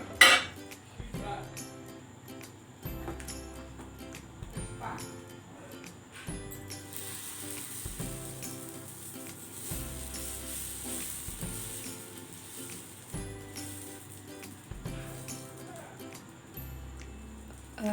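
Wheat rava adai batter poured onto a hot griddle, a soft sizzle under clinks and scrapes of a metal ladle and pan coming in regular bursts, with a little quiet speech.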